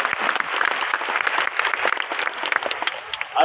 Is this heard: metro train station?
no